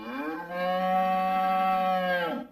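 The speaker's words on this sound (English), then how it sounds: "The cows have no beef with that." A single long, loud cow moo, steady and tonal, close by, lasting about two seconds with no other sound.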